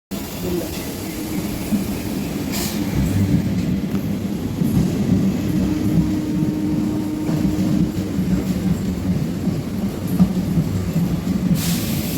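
A train bound for Tiruvallur rumbles past nearby on a Chennai suburban line, a steady low roar with clattering that continues for the whole stretch.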